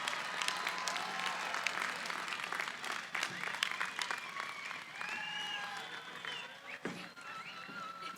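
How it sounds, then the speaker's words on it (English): Graduation audience at a Chico State master's commencement ceremony applauds steadily, dense clapping with cheers and whistles running through the whole stretch, with crowd voices mixed in. "Let's give them a great round of applause."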